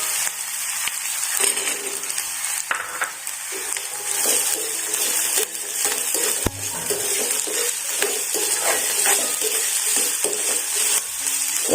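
Onions and peas sauté in a pan for samosa filling, giving a steady close sizzle with occasional stirring scrapes and clinks of a utensil against the pan.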